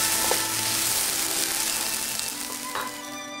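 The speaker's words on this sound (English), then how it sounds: "we are breaking up the eggs and remove the eggs from the wok" Eggs being broken up and scrambled in a hot wok, a steady bright sizzle of frying with faint scraping stirs, close and continuous.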